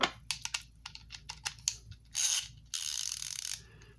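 Craftsman 72-tooth ratchet clicking up close: short fine ratcheting bursts and separate clicks, followed by two longer continuous ratchet runs, no talk.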